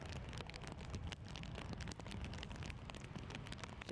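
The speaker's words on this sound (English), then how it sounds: "You can hear on our sound effects mics the rain is lashing down." Heavy rain lashing down at a race circuit, a dense, steady hiss of drops pattering on surfaces with no letup, picked up by trackside effects microphones.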